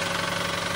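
A Toyota Wigo engine idles close up, a steady, rough mechanical drone with a fast, even pulsing throb and no talk over it.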